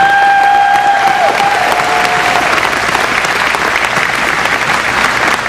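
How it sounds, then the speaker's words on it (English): A crowd at an Honor Flight event in Champaign, Illinois applauds in a dense, sustained round of clapping, loud and steady, with a brief tonal sound fading early on. "how about a round of applause for all these guys coming out tonight?"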